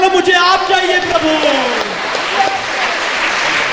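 A worship congregation claps along while singing and speaking together, with dense, steady clapping that carries through the whole stretch beneath sung voices.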